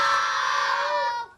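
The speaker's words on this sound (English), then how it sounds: "If you are going to teach your kids to scream" A crowd of schoolchildren screams together on a count of three, one loud, sustained, high-pitched shout held for about a second before it cuts off.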